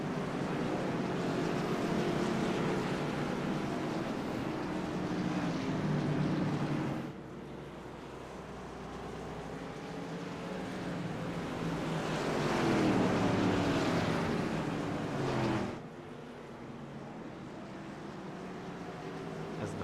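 A field of Modified race cars circling South Boston Speedway under caution, a steady engine roar that swells and fades as the pack passes, heard from a distance with broad wind-like rumble.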